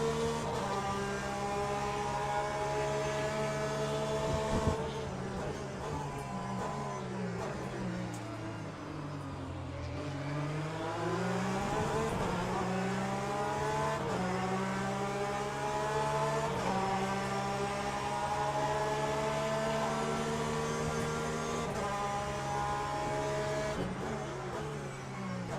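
A Porsche race car engine in Le Mans Ultimate drones steadily, its pitch dipping as it slows and climbing back through gear changes, loud and continuous with no talk.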